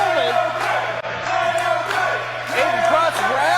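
A wrestling arena crowd cheers and yells loudly and continuously, with rising whoops and shouts layered over a steady roar and a constant low hum.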